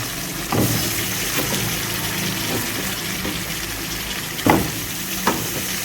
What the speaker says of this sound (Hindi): हमारा मसाला भुन गया, बहुत प्यारी खुशबू आ रही है